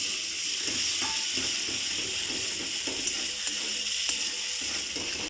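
Pointed gourd mash cooks in hot oil in a pan, a constant close sizzle and hiss broken by soft scraping strokes of stirring.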